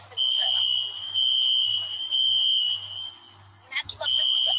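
Piercing electronic alarm tone from an alarm in a building where a fire was reported, shrilling in long sustained stretches that break off briefly, with someone talking over and between the blasts.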